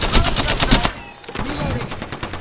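Rapid automatic gunfire in a first-person shooter video game cracks out in close, loud bursts, pausing briefly before further shots resume, with a faint voice underneath.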